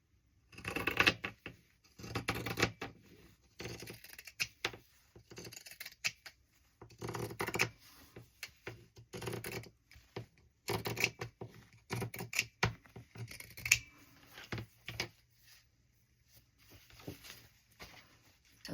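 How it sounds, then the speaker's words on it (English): Pinking shears cut along a paper edge, making repeated crisp snipping crunches in irregular bursts with short pauses between cuts, close and fairly quiet. "This edge is pink, so I'm going to use my pinking shears."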